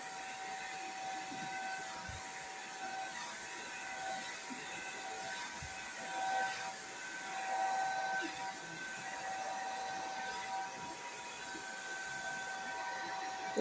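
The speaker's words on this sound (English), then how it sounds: "then i just turn on blow dryer on, on heat" A steady, whooshing airflow drones on throughout, broadband and constant with a faint high whine, from a hair dryer running nearby on its heat setting.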